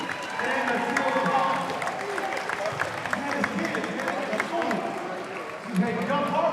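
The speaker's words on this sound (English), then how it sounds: "Let's send a round of applause for Bill Frick, Coach and Bill Frick, and the Steelers." Crowd applause in a gym at a charity wheelchair basketball game against the Pittsburgh Steelers, a steady dense wash of clapping and cheering with voices mixed in throughout, swelling briefly near the end.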